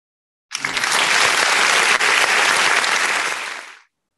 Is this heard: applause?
yes